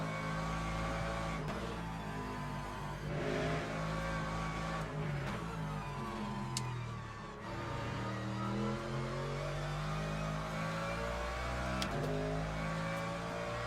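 A BMW race car in the Le Mans Ultimate racing game roars through shifting revs, loud and continuous, with engine pitch rising and dropping through gear changes and brief tire noise mixed in.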